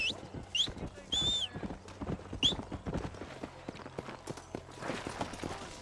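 A horse trots in Red Dead Redemption, its hooves clip-clopping in a quick, even rhythm close by, with a few short high whistles near the start.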